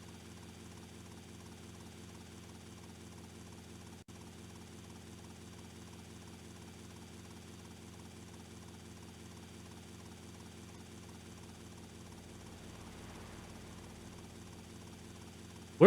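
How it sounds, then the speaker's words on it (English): Helicopter in the video game GTA Vice City, a steady droning rotor and engine hum that holds evenly at a moderate level throughout, with no talk over it. "Now we're on the last flight of this helicopter."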